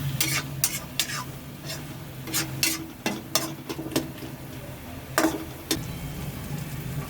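Paneer pav bhaji being stirred in a hot pan on a street food stall, with repeated sharp scraping clacks of the spoon over a continuous soft sizzle, no talking.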